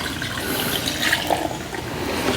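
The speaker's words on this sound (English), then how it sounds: "now what we want to do is we're going to add in the syrup" Syrup is poured into a peach liqueur mixture that already holds lemon peel, giving a steady, continuous liquid pour with a splashy, close rush that never lets up.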